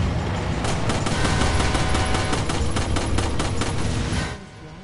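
Hand cannon gunfire in Resident Evil 4, heard as a loud, dense barrage of rapid shots that runs continuously for about four seconds before dropping away.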